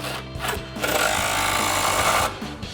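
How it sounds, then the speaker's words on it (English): An impact wrench fitted with a 13mm socket buzzes in a steady, close mechanical rattle for about a second and a half while tightening Mustang subframe bolts, with a few brief clicks just before and after. "We're gonna start by tightening these front two down, so impact and 13mm socket"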